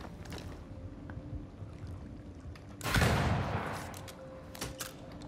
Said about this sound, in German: Nach diesem Schuss in der Höhle, der ja wahrscheinlich auch ordentlich Gehalt hat.